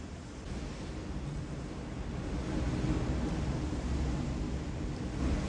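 Sea waves roll in during a storm, a steady loud wash of broadband surf noise that swells slightly midway, heard alone without voices.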